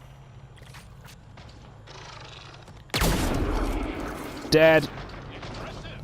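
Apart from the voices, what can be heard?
Isharay sniper rifle shots in video game Mass Effect: Andromeda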